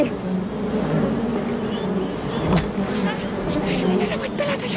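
A swarm of honeybees buzzes loudly and continuously around a hive nest being split, the close, droning hum running under people talking.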